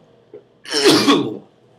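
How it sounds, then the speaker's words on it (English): A single sharp, explosive cough or sneeze-like burst, loud and close, preceded by a small breathy catch. "Yeah, there was a cough."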